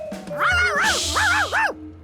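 A cartoon dog barks about four times in a close, loud, springy burst, with no talk alongside.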